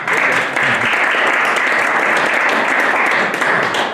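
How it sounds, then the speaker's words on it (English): A room full of people gives a steady round of applause at a legislative breakfast in Newport, Vermont, the dense clapping loud and sustained throughout with no break. "it's appropriate to give a round of applause to him at this breakfast"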